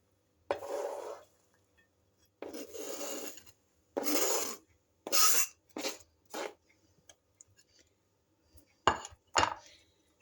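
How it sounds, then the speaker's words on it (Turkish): Chopped onion tipped from a board into a bowl while making kısır, a bulgur salad, giving a string of short, close scraping and rasping bursts with a few sharp clinks against the dish, separated by brief silences. "şimdi soğanı da kabın içine şöyle boşaltıyorum"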